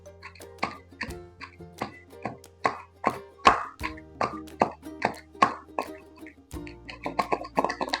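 Ridge gourd chutney is pounded in a stone mortar, about a dozen sharp, wet thuds struck at a steady rhythm, close and distinct against a quiet kitchen background.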